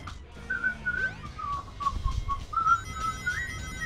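Someone whistles a tune, a clear melodic line of short sliding notes and held pitches, close and alone, with faint background rustle.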